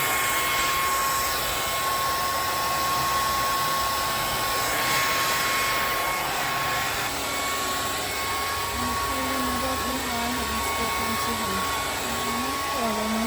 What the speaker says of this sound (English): I'll put you on mute while I blow dry